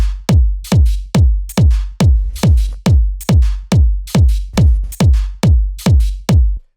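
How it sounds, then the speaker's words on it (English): A house drum rack plays groove percussion over a booming kick, a steady four-on-the-floor pulse of punchy low thumps with crisp percussive hits layered on top, loud and evenly spaced throughout. "it's just adding a bit of kind of groove percussion"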